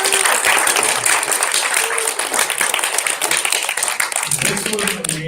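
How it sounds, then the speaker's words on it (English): A big round of audience applause for panelists at the close of a panel discussion on landing AI jobs and internships, dense and steady throughout, with a voice speaking over it near the end. "Can we get a big round of applause for our panelists?"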